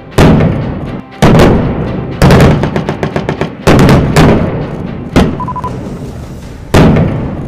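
Artillery guns firing during a joint India–US military exercise at the Mahajan Field Firing Range in the Bikaner desert: heavy booming blasts in rapid succession, each rolling into a long echoing rumble, loud and continuous.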